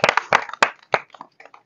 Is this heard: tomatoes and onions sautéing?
no